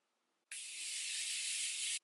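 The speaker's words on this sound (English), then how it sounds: "Mini Continuous Setting Mist." A Morphe Mini Continuous Setting Mist, Christmas edition, sprays in one steady, close hiss of fine mist lasting about a second and a half, then cuts off sharply, with no talking.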